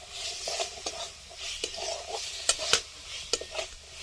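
Green peas and spices frying in oil in a pan while being stirred, a faint steady sizzle broken by scraping strokes and a few sharp clinks of the spoon against the pan.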